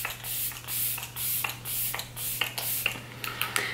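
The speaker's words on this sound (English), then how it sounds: "Usually now I like to spray my face with some setting spray." Flower Beauty setting spray is misted onto a face in a run of short, hissing pumps, about eight bursts in steady rhythm, close and fairly loud with a low hum underneath.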